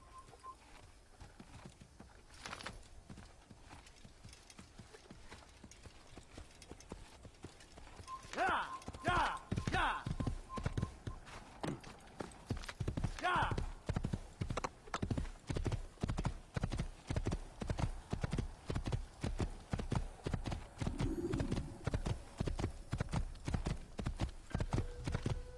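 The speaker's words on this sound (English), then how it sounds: "There's a horse. I did hear a horse." Horse hooves clip-clop steadily at a walking rhythm in the Assassin's Creed video game, close and fairly clear, with someone talking briefly near the start and a short neigh partway through.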